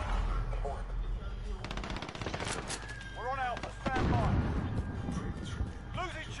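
Automatic gunfire from the video game Call of Duty Modern Warfare, with rapid rattling bursts and sharp single shots crowding together over several seconds, loud and close, mixed with in-game effects.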